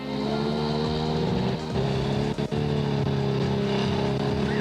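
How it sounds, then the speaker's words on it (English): A motorized chair's engine drones steadily throughout, constant and fairly loud, with a couple of brief dips midway. "Basically, it's a chair with an engine in it."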